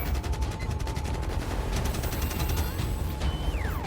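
Rapid gunfire from several weapons after an order to fire, a sustained rattling fusillade of evenly spaced shots lasting nearly four seconds, loud and continuous with no talk over it.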